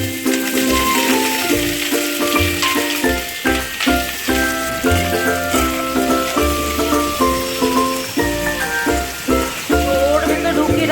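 Food sizzles in hot oil in a home kitchen, a steady crackling hiss running throughout beneath louder background music.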